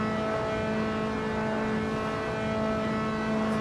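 A Dallara F312 race car in a racing game holds top speed with a steady high engine whine carrying strong sustained harmonic tones, loud and constant, with no voice.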